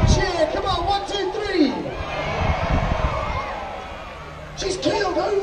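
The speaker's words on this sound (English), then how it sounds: "Let's have a big cheer" A crowd cheers and shouts at a seaside boat show in Bridlington, children's voices prominent, rising in bursts over a PA-style announcer's voice and then dipping before swelling again near the end.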